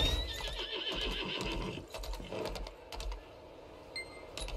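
A horse mount whinnies in Lost Ark, with hoof clip-clops and rapid keyboard typing mixed into a busy game soundscape.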